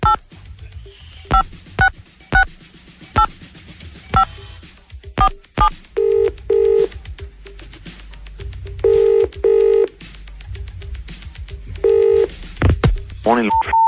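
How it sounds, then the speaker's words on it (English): Telephone dialing and ringing on a call to a business, with a series of DTMF keypad beeps followed by repeated double ring tones on the line, clear and prominent, then brief speech-like sounds at the end. "So, why don't I just call up a business now and see if we can talk to Mardy Arse."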